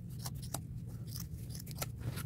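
Scissors cut through a denim jean jacket just above a seam, giving a few faint, sharp snips spread across a quiet stretch with a steady low background hum.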